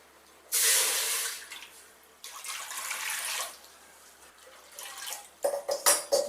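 Water is poured from a tumbler into a pressure cooker sitting on a stove for sweet pongal. Two close, splashing pours come in bursts, followed by sharp metallic clinks and clatter of utensils.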